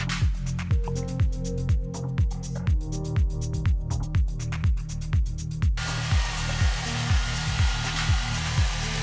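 A hair dryer blows on freshly washed short hair, its loud, even whoosh starting abruptly partway through and continuing over a pulsing background music beat.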